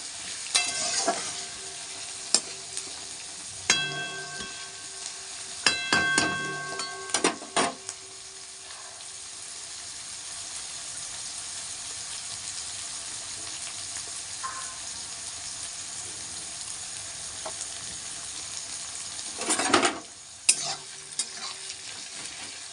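Onions fry in a pan for a chicken recipe, giving a low continuous sizzle with bursts of stirring clatter early on and another louder scrape near the end.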